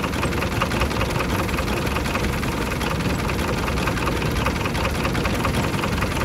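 Massey Ferguson MF31 tractor engine running after a start: a loud, close, steady mechanical rumble that holds the same chugging texture for the whole stretch, with no other sound.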